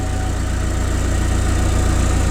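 A 1996 Honda Civic sedan idles steadily, close to its aftermarket exhaust, with a low, even rumble and a constant hum that hold for the whole stretch without change.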